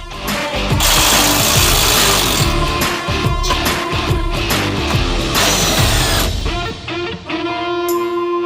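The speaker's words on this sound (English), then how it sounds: "I'm gonna hold on to it while I remove this bolt." Removing a 22mm trailing arm bolt from the frame of an FL350 rear end: a loud, continuous power-tool hammering rattle, steady throughout, then easing toward the end with some ringing metallic tones.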